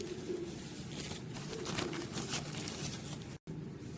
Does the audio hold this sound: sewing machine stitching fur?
no